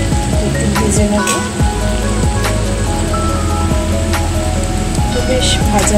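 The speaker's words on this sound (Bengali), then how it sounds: "একটু ভেজে নেব" Beans and chillies frying in a pan for homemade noodles, giving a steady, close, rain-like sizzle and crackle throughout, with someone talking over it.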